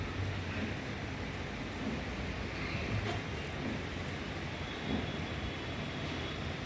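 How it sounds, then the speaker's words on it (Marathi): Heavy rain falls steadily, a dense continuous hiss at moderate distance, with a deep rumble underneath and no talking. "खूपच सगळीकडेच पाऊस आहे"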